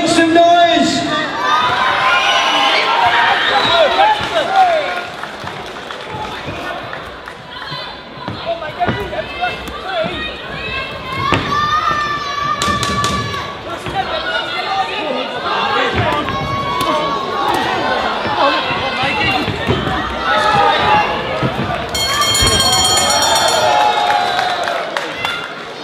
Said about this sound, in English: give them both a massive round of applause and well done